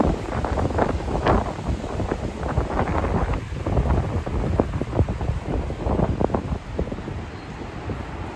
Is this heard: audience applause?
no